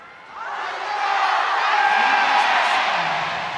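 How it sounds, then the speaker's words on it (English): An esports arena crowd at an MSI 2026 League of Legends bracket-stage match between Hanwha Life and Bilibili Gaming cheers and yells, a loud sustained roar that swells after a brief lull and holds steady. "The crowd doing their best to wake him up, Atlas"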